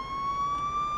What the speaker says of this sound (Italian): Via, via, sirene,